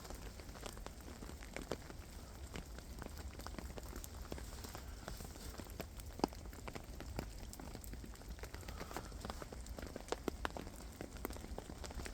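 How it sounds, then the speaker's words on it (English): Melting ice drips off trees in a snowy winter woodland, faint scattered taps and patters falling irregularly around a quiet campsite, with no voices. "it's the water dripping off, or should I say the ice melting."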